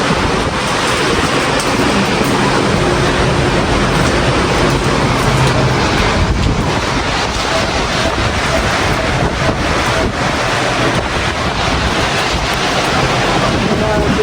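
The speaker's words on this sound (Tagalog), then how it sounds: "Grabe, sobrang lakas ng ulan." Very heavy rain pours down in a dense, unbroken roar that stays loud and steady throughout, like a downpour hammering close by.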